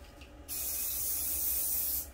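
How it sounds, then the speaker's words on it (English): Activator sprayed from an aerosol can onto a guitar body during a build, a steady close hiss lasting about a second and a half after a brief quiet start. "Spray some activator on here."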